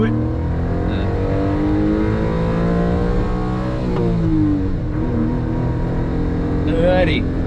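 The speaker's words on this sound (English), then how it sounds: "let's unleash the 63 horsepower" A Honda Beat with a 63-horsepower engine accelerates on the Nürburgring, heard from the cockpit: a steady, loud, rising engine drone with gear changes runs throughout the clip.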